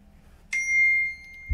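A single bright, sustained ding rings out as a text message notification in a video game, clear and alone in a quiet room, followed by a soft thump at the end.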